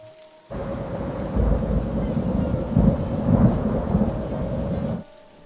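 Steady heavy rain pours down while thunder rumbles low and long beneath it, with no voices.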